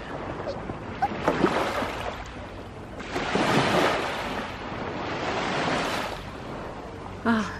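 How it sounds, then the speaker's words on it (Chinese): Ocean surf rolls in and breaks on the shore in repeated swelling washes, loud and close, with wind buffeting the microphone at a seaside holiday spot. "啊，听着这个海浪声"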